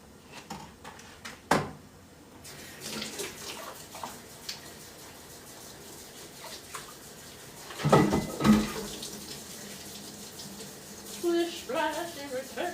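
Water running into a kitchen sink during holiday baking prep, with intermittent splashing and clattering, a louder burst midway, and a voice speaking briefly in the background.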